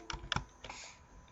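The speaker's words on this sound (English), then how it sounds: "Let's type my name" Typing a name on a computer keyboard: a few quick, close key clicks in an uneven burst, quiet and alone, fading after the last stroke.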